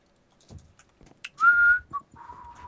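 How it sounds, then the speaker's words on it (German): A person whistles a few short, clear notes close up, separated by brief pauses, with faint clicking or keyboard tapping and breathy noises in between. "Du pfeifst nur so, ne?"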